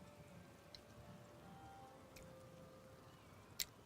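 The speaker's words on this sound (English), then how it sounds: "Now, of course it's raining." Rain falling in the Disney Dreamlight Valley video game, a very faint, even patter of raindrops with a couple of tiny ticks, quiet and steady with no voices over it.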